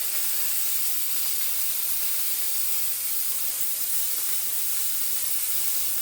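A Silvercrest SDR 1050 D1 handheld steam cleaner blasts tile joints with a steady, loud rushing hiss of steam that holds unbroken throughout, with no voices.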